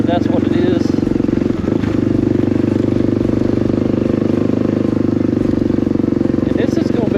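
A Suzuki DR350 motorcycle rides a dirt road in the North Georgia mountains, its engine droning steadily and loud close by for the whole stretch, with faint rattles over the rough ground.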